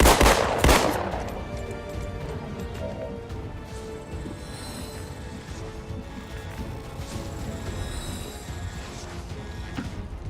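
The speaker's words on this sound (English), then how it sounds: "Fire our pistol again." Pistol shots in the game XCOM 2: a sharp loud crack or two right at the start, followed by a fading rumbling tail and low ambient game sound.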